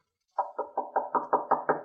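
A hotel room door is rapped eight times in a quick, steady series of sharp knuckle knocks, close and distinct against silence.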